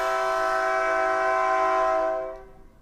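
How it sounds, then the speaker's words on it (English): A Texas State Railroad train sounding its horn nearby: a loud, sustained chord blast that holds steadily for about two seconds before cutting off, with the rumble of the passing train fading after it. "And that is a train."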